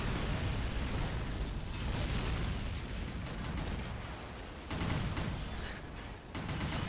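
A 40 mm gun in the Men of War game fires at a sped-up rate, a dense continuous roar of overlapping booms that barely breaks for a moment before resuming, loud and close.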